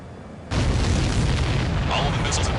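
Missiles exploding in the aerial combat game Ace Combat 7, a sudden loud boom that swells into a sustained broadband roar and rumble lasting a couple of seconds.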